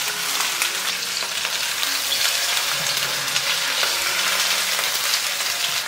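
Fish pan-frying in oil in a wok, a steady crackling sizzle with faint scraping as the pan is shifted, close and continuous with no talk.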